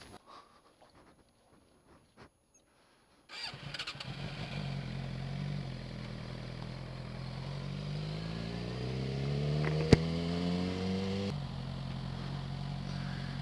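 A motorcycle starts up after a quiet opening and rumbles at idle, then revs upward as the rider pulls away, the engine note rising in pitch before steadying, fairly close and without talk.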